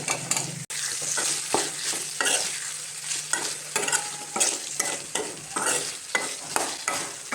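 Koorkka (Chinese potato) tumbles into hot oil and fries with a steady loud sizzle, a spoon scraping and stirring through the pan in repeated strokes for several seconds.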